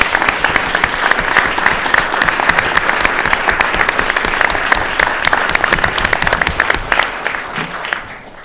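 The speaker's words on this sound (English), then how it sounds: "Let's give them a round of applause for really." Loud, sustained round of applause from a room of people at a government cabinet meeting, dense steady clapping for about eight seconds before tapering off at the end.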